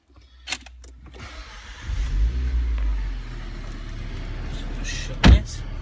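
RS sports car with automatic gearbox and launch control started by keyless push button, a cranking whir swelling into a catching engine that settles to a steady idle close by, with a clunk just before.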